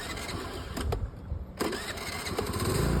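A scooter engine cranks and catches, a brief pause in noise, then a steady running rumble that grows louder toward the end, close by.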